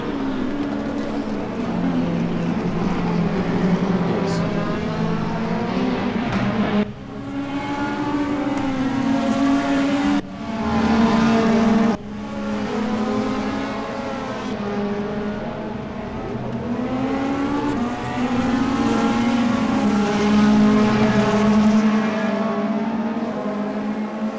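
Race cars in a sim racing game run side by side, engines droning loud and steady through the whole stretch, with pitch rising and falling as they shift and accelerate, and no talk over them.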